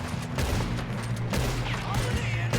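Dense gunfire in Red Dead Redemption 2: a steady fusillade of overlapping shots with sharper reports now and then, loud and continuous, with game voices beneath.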